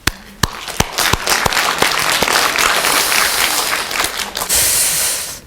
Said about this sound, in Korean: 여기 오신 부모님께 제가 격려의 박수를 드릴게요.